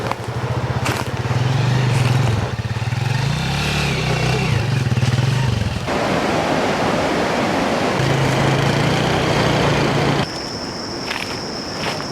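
Motorcycle riding along a forest track, its engine a steady close drone with a varying low throttle note that eases after the midpoint, sounding alone with no voices.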